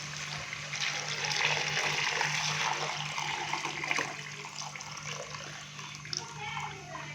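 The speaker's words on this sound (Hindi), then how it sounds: "अभी मैं इसके अंदर यखनी डाल दूंगा" Yakhni stock poured into a pot of mutton pulao, a continuous splashing, gurgling stream of liquid close by that swells early and gradually thins out.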